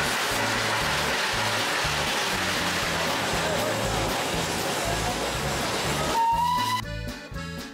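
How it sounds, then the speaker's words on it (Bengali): Darjeeling Himalayan Railway toy train running on its joyride from Darjeeling toward Batasia Loop, a steady loud rumble with rhythmic low clatter of wheels throughout, ending with a brief high whistle-like tone and jolting knocks. "যথাসময় ছেড়ে দিল আমাদের টয় ট্রেন"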